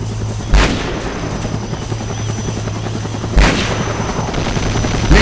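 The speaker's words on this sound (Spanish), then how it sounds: "¡Nuestro helicóptero, venga!" Helicopter rotor drone with bursts of gunfire and explosive booms during a battle in the video game Conflict, a steady loud whir with two or three sharp impacts standing out, no talking.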